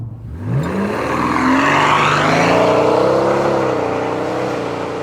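Mercedes CL65 AMG V12 bi-turbo engine pulling hard, its loud rising and shifting drone sweeping upward as the car accelerates, steady and close with no talking.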